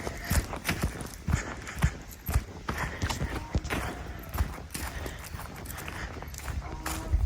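Many sheep hooves patter and thud over the ground in an irregular stream as the flock is let out and runs along, with occasional faint voices in the background.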